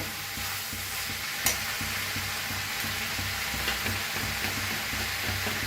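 Cabbage bhaji cooking with peanut in a pan is stirred with a spoon, rhythmic scraping strokes over a constant loud sizzle, with one sharp clink partway through.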